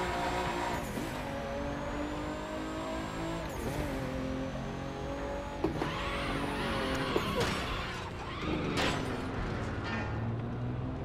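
Racing-game car engine with harmonic revs rising and falling as gears shift, including a downshift, with brief tire noise, steady and fairly loud throughout.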